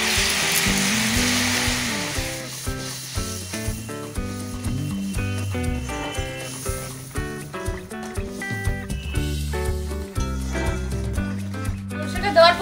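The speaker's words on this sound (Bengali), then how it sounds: "এবার বেটে রাখা সরষেটা দিয়ে দিচ্ছি" Ground mustard paste hits a simmering Bengali lentil-fritter curry and sizzles steadily, with a bright frying hiss at first that fades under a voice and background music.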